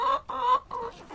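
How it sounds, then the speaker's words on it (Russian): Hens cluck in three short, close, throaty bursts in quick succession. "Днем они гуляют по двору, общаются, клюют зерно, пьют водичку, кудахчут и несут яйца."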